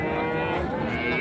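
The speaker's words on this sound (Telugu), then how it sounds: "దూడ బాగుంది." A calf moos in one long, loud, continuous low call, close by and filling the whole moment, at a calf market in Chintamani where Jersey and Holstein calves are sold.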